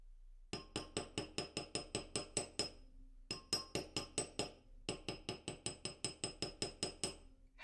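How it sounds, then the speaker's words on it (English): Steady, rapid hammer strikes ring on metal wire being flattened in three runs of evenly spaced taps, with brief pauses between runs. "hammer that one flat as well"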